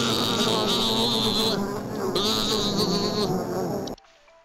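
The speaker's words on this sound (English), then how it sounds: "Bees." Loud, dense buzzing of many bees in a video game, steady and close, with a high whine that swells and fades, cutting off abruptly near the end.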